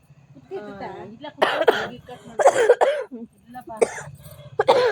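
A couple of short coughs break out between stretches of close conversational speech.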